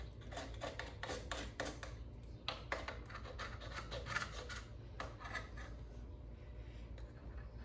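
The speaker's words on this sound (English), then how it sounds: "that's the old gasket peeling off too" An old crankcase gasket is scraped and peeled off a Briggs & Stratton engine during a rebuild, giving a quiet, close, continuous rasping scratch with bursts of quicker strokes and no talking.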